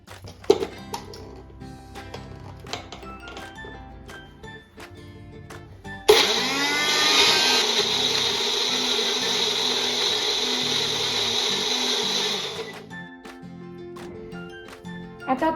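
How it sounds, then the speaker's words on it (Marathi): Kitchen blender grinding chopped pineapple with squeezed lemon for juice; a loud, steady motor whir starts suddenly, runs for about six seconds and then cuts off, with quieter handling clatter before and after. "आता आपण हे ग्राइंड करून घेऊया।"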